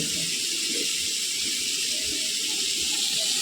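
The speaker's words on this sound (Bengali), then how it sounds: "এবার আমি জল দিয়ে দেবো।" Water hitting a hot pan of eggplant and potato curry makes a loud, steady sizzling hiss with low bubbling underneath, holding constant throughout with no talk.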